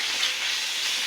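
Spice paste (masala) frying for a roast gives a steady, dense sizzling hiss up close, continuous and even for the whole second with no voices.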